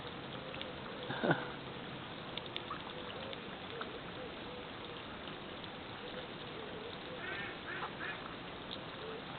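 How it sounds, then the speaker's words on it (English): Ducks quack now and then over a steady wet dabbling and slurping, with one louder burst of calls early on; no voices. "all these ducks feeding away, slurping away at all that green stuff in the water"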